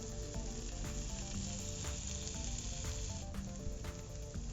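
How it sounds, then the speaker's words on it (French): Cooked onions with chives sizzling in a pan as cider vinegar is poured in, a steady hiss running throughout with light stirring clinks, no talking. "Je déglace avec un peu de vinaigre de cidre."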